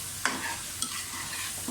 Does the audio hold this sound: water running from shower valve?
no